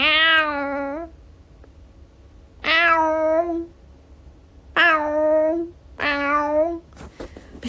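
A person imitates a cat's meow four times with pauses between, rising and falling cries that sound close and convincingly feline, indoors in a quiet space.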